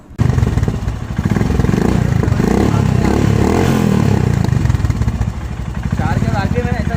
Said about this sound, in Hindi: बाइक को बाहर लेते हैं और टेस्ट रन करते हैं।